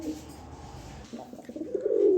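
A pair of white Mumbai pigeons coo softly up close in low, throaty, rolling bursts that grow louder toward the end, with no talking.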